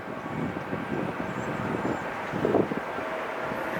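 An airplane departing LAX, a continuous distant jet rumble holding steady with a slight swell midway, mixed with light wind noise.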